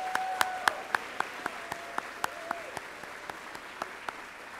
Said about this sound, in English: Let's give all of our students a big round of applause as we're so proud.